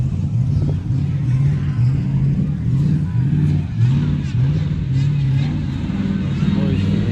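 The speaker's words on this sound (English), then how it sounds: "And behind it, Fordson Major Diesel." A Fordson Major Diesel tractor engine runs steadily at a vintage show, its low, loud chugging throb repeating evenly and continuously up close throughout.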